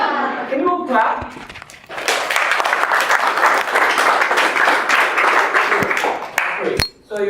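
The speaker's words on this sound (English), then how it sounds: "Can you all clap?" A classroom of students at a school claps together in a dense, sustained burst of applause lasting several seconds, close and loud, after a teacher speaks and before scattered thumps.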